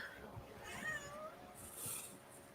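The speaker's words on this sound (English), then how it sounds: "The cats are awake" A house cat meows softly a couple of times indoors, faint and a little distant, with quiet room noise and a brief murmur of a voice.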